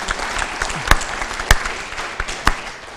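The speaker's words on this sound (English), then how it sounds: "So a round of applause to Christina." Applause from a museum lecture audience, a steady patter of clapping with a few louder individual claps standing out.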